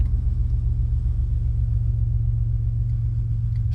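An LS engine idles with a loud, deep, steady guttural rumble, a constant low throb that holds unbroken throughout, with no voices over it.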